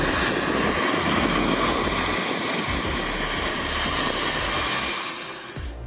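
A small single-seat homebuilt mini aircraft flies over Japan, its steady engine drone loud and continuous with a sustained high whine, fading slightly at the end.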